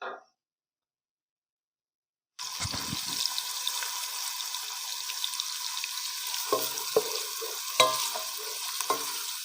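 Onions frying in a pan on low flame, a brief sound and near silence at the start, then a steady close sizzle with a few spoon knocks and stirring scrapes.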